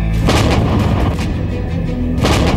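Dhanush howitzers fire on Rajpath during the Republic Day parade, two loud booming blasts at the start and end with a rumbling roll between them.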